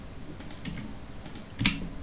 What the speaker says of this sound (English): hitting delete on the keyboard